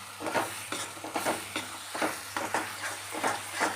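Brinjal masala with red chili powder sautés in oil in a pan, with a constant sizzle under a quick run of repeated scraping stirs, close and moderately loud.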